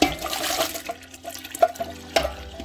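Water pours and splashes into a cooking pot of albondigas with hominy, coming in a few uneven gushes at close range, loudest near the start and again toward the end.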